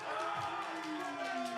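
A crowd at a powerlifting meet cheers and shouts in a steady, moderately distant roar with a few whoops rising above it, a little muffled and continuous throughout.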